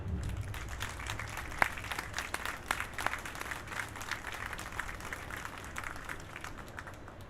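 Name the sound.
audience applause at a ceremony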